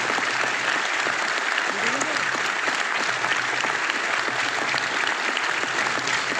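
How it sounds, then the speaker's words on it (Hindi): An audience claps for mothers at a Hindi motivational business talk, a sustained crowd applause holding steady throughout with faint voices mixed into the wash. "फिर बजाओ ना ताली माँ के लिए"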